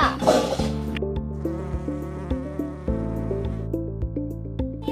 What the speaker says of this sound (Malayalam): അയ്യേ ഈച്ച.